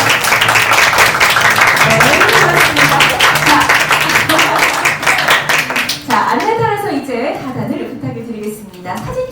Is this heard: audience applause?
yes